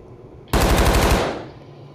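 Loud, close burst of rapid automatic gunfire in Rainbow Six Siege, lasting under a second before stopping abruptly, with a brief fading tail.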